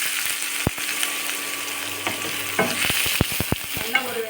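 Finely chopped onion sautés in a pan for mung bean gravy, giving a steady close sizzle with sharp scraping and tapping as a spatula stirs it repeatedly toward the end.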